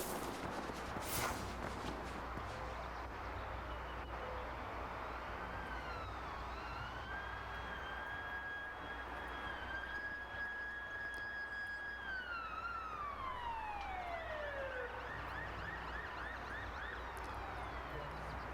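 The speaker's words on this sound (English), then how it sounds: "the police siren was sidechaining the ambience" A wailing police siren in the video game Saints Row rises and holds its pitch, then sweeps downward, sounding faint and somewhat distant over a constant background hum.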